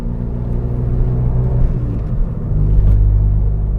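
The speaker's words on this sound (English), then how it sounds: "This is a fully straight piped Fiesta right here." Straight-piped Ford Fiesta ST cruising slowly, its exhaust a steady, loud low rumble that swells slightly toward the end, heard from close by with no talking.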